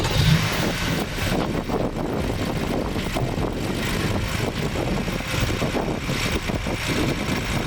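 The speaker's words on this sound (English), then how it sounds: "it's a pretty standard sounding motor, BMW, Vanos, direct injection, so the injectors are a bit loud" A BMW F80 M3 inline-six twin-turbo engine idles steadily, heard up close from the engine bay, a dense even rumble with a faint ticking from direct injection injectors running throughout, no voices.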